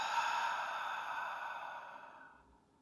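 One long, close, airy exhale during a calm guided relaxation, steady and breathy before fading out.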